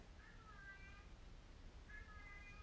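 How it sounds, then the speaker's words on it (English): A house cat named Tom meows twice indoors, two drawn-out plaintive cries a couple of seconds apart, faint and distant over a low background hum. "Can you hear that in the background, that meowing?"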